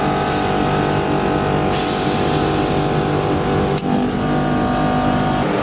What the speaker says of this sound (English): The tone of the compressor is clearly changing immediately after each solenoid switching operation.